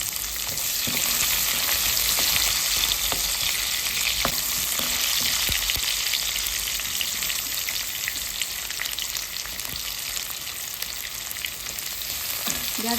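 Thinly sliced onion fries over high heat in a pan, a constant loud sizzle broken by the scrape and clatter of stirring, with no talking.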